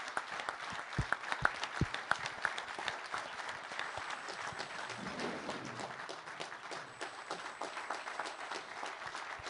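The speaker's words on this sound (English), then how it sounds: "let all of us give you a warm round of applause" A standing audience at Davos applauds Ukrainian soldiers, with sustained, dense clapping that fills the hall for nearly ten seconds and a few sharper individual claps standing out near the start.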